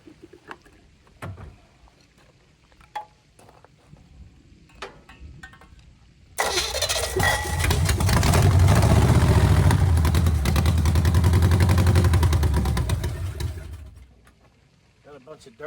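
An old small engine catches and runs after a few quiet clicks and handling sounds, roaring steadily for around seven seconds before dying back down; brief speech occurs before it starts.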